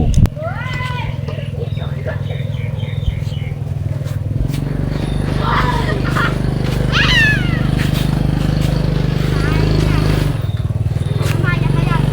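A motorcycle rides through a durian orchard in Khlung, Chanthaburi, its engine a steady low drone running the whole time, close and fairly loud, while people talk over it.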